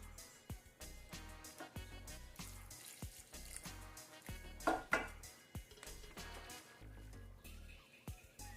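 Tap water runs into a sink in a home kitchen while Jamaican saltfish fritters are being made, splashing and trickling close by in short bursts with clinks of dishes and pans, no talk.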